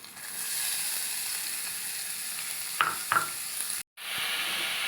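Onions dropped into hot oil for potato bonda, a steady loud sizzle and hiss with a couple of brief scraping stirs near the end and a momentary cut before the frying noise resumes.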